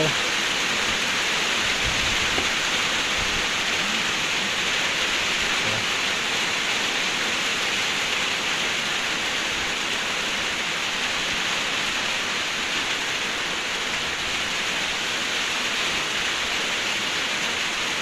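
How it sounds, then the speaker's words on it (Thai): Steady rain falling over rice paddy farmland in the wet season, a dense, even hiss that holds at constant loudness from start to finish with no breaks. "ฝนตกไปทั่วเลย"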